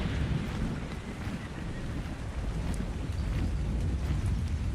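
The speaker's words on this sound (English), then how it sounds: "we can hear the lightning happening, so most likely it's the weather events" A stormy weather event in Ark Ascended on the Ragnarok map, with a steady low rumble of wind, rain and distant thunder that holds at moderate loudness throughout.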